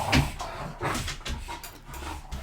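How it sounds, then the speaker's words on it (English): Several dogs play and scuffle in the background indoors, giving off a run of yips, growls and panting in uneven bursts at moderate loudness. "I'm being overwhelmed with dogs fighting in the back."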